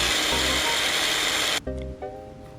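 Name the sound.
food processor grinding broccoli and carrot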